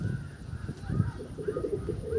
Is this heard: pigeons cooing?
yes